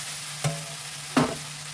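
Mixed vegetables frying in spiced oil over a raised gas flame for a vegetarian mixed-vegetable dish, a close steady sizzle with two quick scraping stirs of the spatula.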